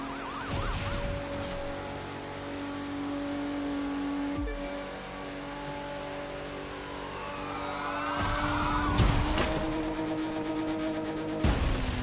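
Porsche 911 engine in the driving video game The Crew 2, a steady moderate hum from the car with a rising, sweeping rev toward the end and a couple of brief sharp knocks.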